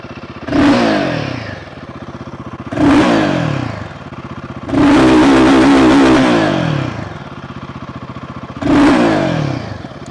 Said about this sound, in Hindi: चलो अब आपको मैं एग्जॉस्ट नोट सुनाता हूँ बाइक की